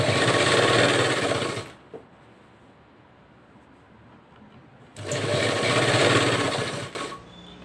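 Sewing machine stitching a blouse collar, running in two loud, steady whirring bursts separated by a quiet pause, close by.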